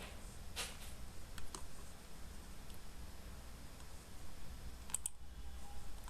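A computer mouse gives a few faint, sparse clicks, spaced seconds apart over a quiet background hiss.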